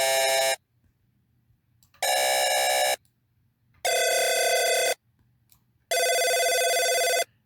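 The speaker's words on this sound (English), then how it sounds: "Now we got ourselves a beautiful telephone." A telephone ring synthesized on a modular synth sounds as four bright buzzing bursts, each about a second long, separated by silent gaps, loud and alone.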